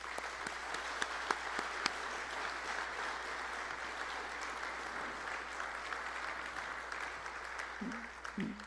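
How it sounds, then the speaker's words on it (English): Banquet audience applauding a Hall of Fame class at a university athletic hall of fame dinner, a steady wash of clapping held at moderate distance throughout, with a few sharper claps standing out. "Ladies and gentlemen, please help me give this group one more round of applause."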